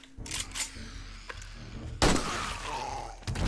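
A loud, sudden gunshot blast from the zombie survival game 7 Days to Die midway through, followed by a ringing tail, with smaller clicks and thumps around it.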